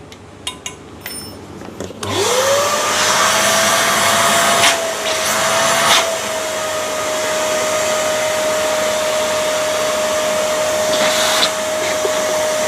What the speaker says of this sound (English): I'm just going to use a vacuum cleaner to vacuum out everything